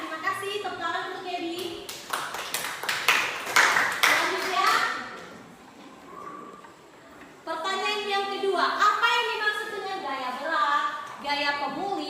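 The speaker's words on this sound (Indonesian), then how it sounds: "Terima kasih, tepuk tangan untuk Gaby." A classroom of students claps for a classmate, a short burst of sharp, rapid hand claps lasting a couple of seconds, set between stretches of a teacher talking.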